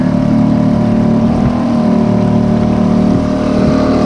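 A motor on a kayak roars steadily and loudly up close as it speeds up, its engine drone holding strong throughout.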